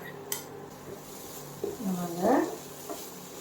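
Grated coconut roasting in a pan for Tamil pulivar kuzhambu, heard as soft scraping and sizzling under a constant low hiss, with a brief ladle knock and a louder clatter of the utensil against the pan midway.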